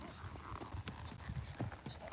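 Hooves of an older, tired horse clip-clop at a slow, uneven pace, faint and somewhat distant, over a low background hum.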